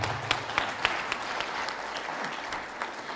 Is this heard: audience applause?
yes